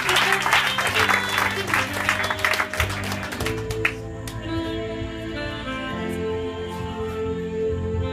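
A church congregation claps and cheers for about four seconds, dense and loud, then the applause gives way to sustained organ-like music and murmuring.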